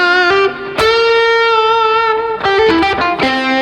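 Electric guitar played with a heavy distorted effects tone, sustained saturated notes and short choppy bursts changing pitch, loud and alone.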